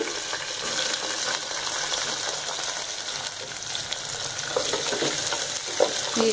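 Chopped onion frying in a pan for semiya upma (shavige uppittu), with green chilies already added, producing a constant, dense sizzle, steady and close throughout with no voices.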